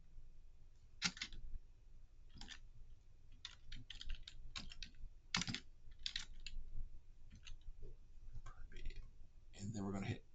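Computer keyboard typing and mouse clicking during a holiday scheduling admin setup, with scattered short clicks and keystroke bursts throughout, ending in a quick flurry, under a voice talking.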